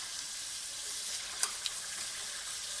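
Chicken karahi frying over a high flame makes a steady, even sizzle across the whole span, with a couple of brief sharper crackles near the middle and no voices.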